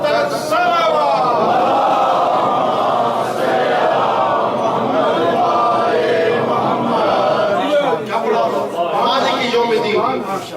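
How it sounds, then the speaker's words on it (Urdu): Mosque congregation at a Muharram majlis in Barcelona calling out salawat together, a loud, dense mass of voices sustained throughout with rising and falling chant-like swells. "فاطمہ الزہرا بلند تر صلوات"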